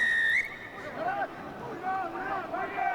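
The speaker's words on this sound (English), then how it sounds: "Blast on the whistle." A referee's whistle sounds during a Japan versus Korea rugby match: a steady shrill tone for about half a second at the start, followed by warbling whistle-like tones over crowd babble and commentary.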